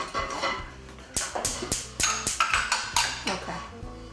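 Chicken and garlic tossed together in a pan on a stove, with a string of quick metallic clanks and taps in a steady rhythm under faint background voices.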